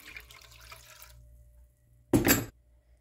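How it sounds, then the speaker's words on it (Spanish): Water is poured into a pot of rinsed brown rice in a short splashing burst of about half a second, preceded by faint quieter running water, with no talking. "Y le agregamos las 3 tazas de agua."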